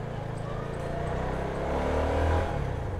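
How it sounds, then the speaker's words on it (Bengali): A CFMOTO NK250 250cc motorcycle engine drones steadily while riding, a close, continuous low rumble with harmonic bands that rise slightly as the revs climb, then ease back near the end, with wind noise throughout. "লাইফে ফার্স্ট টাইম সিএফ মোটো এই যে NK 250 চালাচ্ছি"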